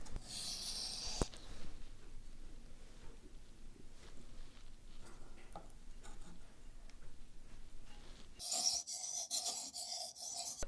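Knife blade being sharpened on a whetstone, a faint, repeated raspy scraping of steel across stone in short strokes, followed by louder, harsher rasping near the end.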